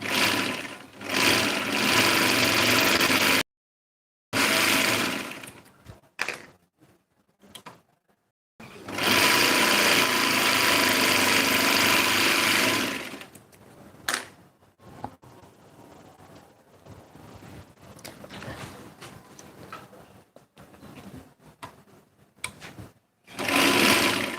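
A sewing machine runs in loud, fast bursts of stitching while setting in a shirt sleeve, stopping and starting with short silent gaps between runs.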